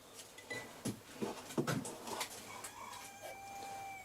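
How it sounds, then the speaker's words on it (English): A rooster crows a few times from a short distance, its calls rising and fading over several seconds against quiet background noise, with some softer clucking bird sounds mixed in. "rooster"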